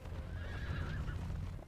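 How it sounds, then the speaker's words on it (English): Horses whinny in a Lord of the Rings battle strategy game, Battle for Middle-earth II: Rise of the Witch-king, a thin drawn-out neigh over a dense rumble of galloping hooves and battle noise, with no talking. "Horses."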